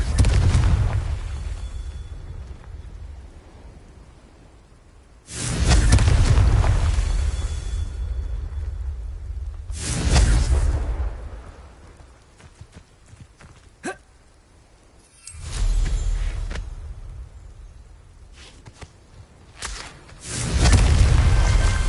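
Fiery spell blasts in the Hogwarts Legacy video game, several loud booming explosions in separate bursts with deep rumbling tails, spaced by quieter stretches of game ambience.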